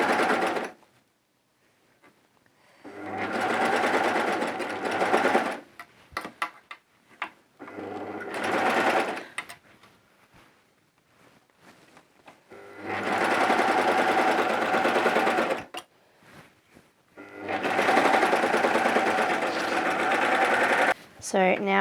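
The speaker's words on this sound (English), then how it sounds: "serge this one on, making sure I don't catch any of my fabric underneath" A serger stitches a sleeve onto fabric coveralls in four runs of fast, steady mechanical whirring, separated by quiet pauses with handling sounds and someone talking over them.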